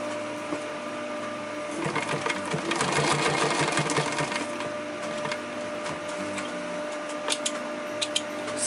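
A sewing machine stitches across an EDC organizer pouch in a continuous mechanical whir with a rapid needle clatter. It is loudest in the middle of the run and is followed by a few faint clicks.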